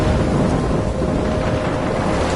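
Stormy weather in the Life Is Strange video game, with a steady roar of rain and wind and a low rumbling like thunder, continuous and loud throughout, with no voices.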